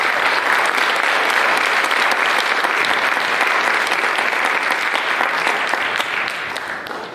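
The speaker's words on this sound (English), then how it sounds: "So if we could give them a round of applause." An audience claps loudly for a high school jazz lab band at a student instrumental showcase, a thick continuous applause that stays strong throughout and tapers slightly in the last second.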